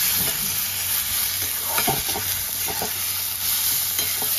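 Bharta being mixed with chopped coriander, with soft repeated stirring and squelching strokes against a steady background hiss throughout.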